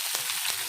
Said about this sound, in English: Jeera is frying.